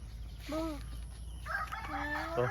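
A Golden Boy sweater gamefowl rooster crows nearby: a short call, then a longer drawn-out cock-a-doodle-doo over a steady low background hum.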